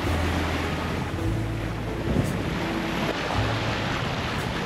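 Steady low engine drone of a sailboat motoring in windless conditions on the Pacific Coral Sea, with wind rushing across the microphone and water washing continuously beneath it.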